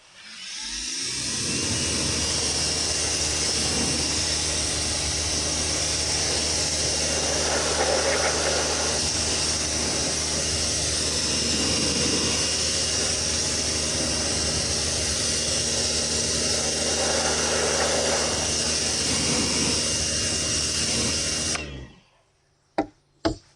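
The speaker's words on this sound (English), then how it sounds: "I'm going to rinse my brush off. Rinse the wheel off." Water spray rinses a car wheel and a cleaning brush, a steady loud hiss running without pause for about twenty seconds before cutting off, followed by a couple of sharp knocks.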